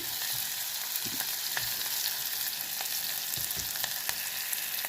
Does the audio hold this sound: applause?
no